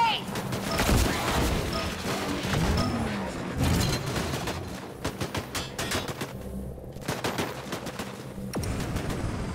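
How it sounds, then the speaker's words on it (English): Dense gunfire and explosions in the video game Disintegration, with bursts and booms layered over a busy battle, then sharper scattered shots, loud and close, with game voices talking over parts of it. "Taking fire!"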